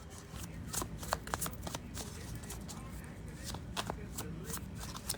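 Small tarot cards riffle and flick in quick, close shuffles, a soft continuous patter of card edges as a person talks quietly alongside.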